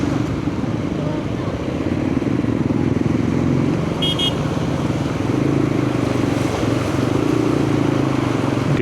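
Motorcycles ride along a flooded road between Apalit and San Fernando during a typhoon, a steady close engine drone running throughout with rushing traffic noise and a brief high toot partway through.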